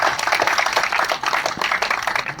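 An audience claps steadily for Archan Dadu at a Gujarati film event, dense continuous applause from many hands throughout the short moment.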